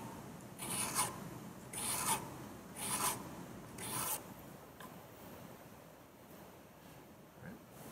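A hand file rasps along a curved edge in four steady back-and-forth strokes. The scraping is close and clear, then drops to a quiet pause with no talk.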